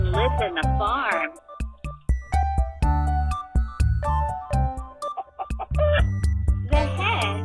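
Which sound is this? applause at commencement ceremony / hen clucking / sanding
hen clucking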